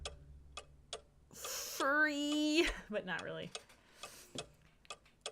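Regular clock ticking repeats steadily throughout, faint and close, while a person talks over it and a brief tonal sound rises in the middle.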